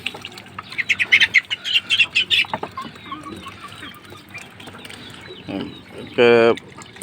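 Chickens in a poultry shed during hot weather chirp and cluck in quick bursts, and one loud squawk rings out close by near the end.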